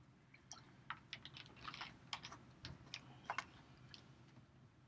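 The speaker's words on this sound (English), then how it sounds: "Give me a second to type that in" Faint, close keystrokes on a computer keyboard, irregular clicks typed in short bursts over a quiet room hum.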